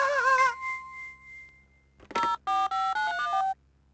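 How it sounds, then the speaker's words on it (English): A telephone gives a warbling tone, then a handset clatters and a series of distinct touch-tone dialing beeps sounds out in quick succession, clean and close with no talk. "I'd better get on the phone to the builders"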